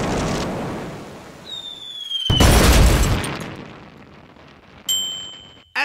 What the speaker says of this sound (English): shot it with a 20-foot barrel steam cannon